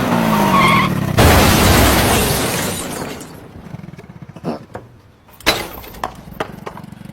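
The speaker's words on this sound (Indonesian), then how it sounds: "dia menabrak sebuah mobil yang terparkir di sana" A motorbike ridden by an unskilled rider crashes into a parked car in an action short film: a loud skid and impact burst, then scattered clattering and knocks as debris settles, with a second sharp crash near the end.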